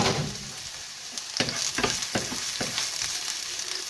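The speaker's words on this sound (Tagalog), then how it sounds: "At saka itong garlic. Gisa natin ng konti." Garlic sizzles and fries in a pan for a vegetable soup, a steady crackling hiss broken by several sharper scraping stirs near the middle, close and fairly quiet with no talking.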